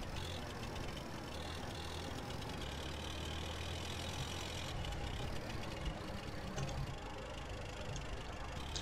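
Police motorcycle engine in GTA San Andreas, a steady droning hum that holds at an even loudness throughout with no speech over it.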